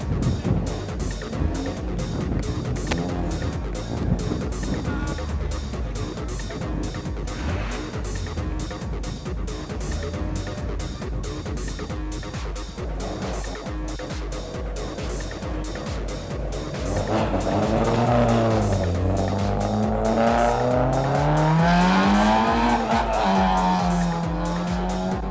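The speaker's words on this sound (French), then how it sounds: "Les voitures, elles sortent d'ici, regardez. Échauffement pour tout le monde" Rally cars heading out for warm-up laps at Sindia, engines revving and tyres squealing steadily, building to a louder, rising and falling whine near the end as a car accelerates close by.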